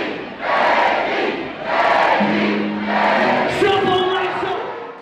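Concert crowd at a rap show in Boston chants and roars in loud, rhythmic waves, massed voices swelling and dipping together in a big venue.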